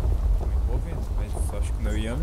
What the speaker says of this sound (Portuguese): Nossa, que barulheira. Isso é um trovão